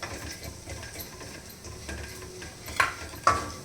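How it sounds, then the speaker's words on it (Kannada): Toor dal, coriander seeds, cumin, fenugreek and black pepper roasting in oil in a pan give a soft sizzle, with the scrape of a stirring spoon and two sharp metallic clinks near the end. "ತೊಗರಿಬೇಳೆ ಧನಿಯಾ ಜೀರಿಗೆ ಮೆಂತ್ಯ ಕಾಳು ಮೆಣಸು ಇದೆಲ್ಲನೂ ಕ್ಲೀನಾಗಿ ಎಣ್ಣೆಯಲ್ಲಿ ಹುರ್ಕೊಂಡ್ಬಿಡೋಣ"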